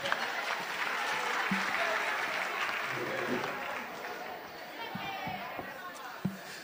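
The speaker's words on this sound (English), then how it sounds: "A round of applause for Dr. Kariuki, please." A room of attendees at a national elections forum applauds a guest speaker, a broad fairly faint wash of clapping that fades toward the end, with a few sharp knocks and a low voice underneath.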